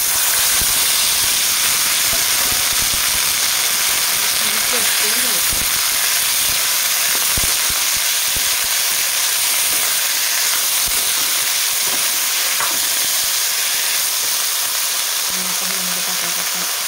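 Cauliflower sautés with turmeric, mustard seeds and curry leaves for a dry vegetable dish, giving a loud, constant, close hiss of frying with scattered soft knocks from stirring.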